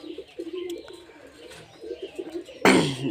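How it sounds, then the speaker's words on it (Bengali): A hand-raised native Indian dove coos in soft repeated phrases close by in an aviary, followed at the end by a sudden louder burst of noise. "এখানে একটা দেশাল ঘুঘু আছে আমাদের দেশি"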